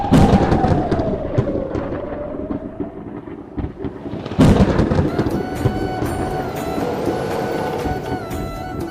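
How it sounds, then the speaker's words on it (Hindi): Storm thunder as a story sound effect, with loud, heavy rolling rumbles that swell and fade, then break into a fresh crack and a long sustained roar, no voices over it. "एक रात बिजली चली गई और आसमान में बादल गरजने लगे।"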